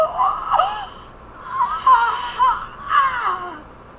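A voice actor performs strained, gasping cries and choking breaths for a game character dying from breathing in gas, in several loud, wavering bursts with short pauses between them.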